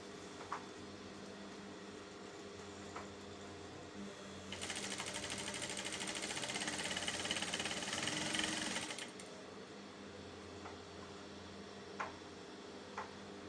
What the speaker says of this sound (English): I'm going to close it like so, right side facing right side, and sew across like this.